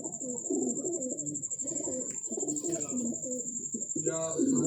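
Pigeons coo repeatedly in soft, throaty rolling phrases close by, with someone talking over them and a thin high-pitched tone running steadily in the background.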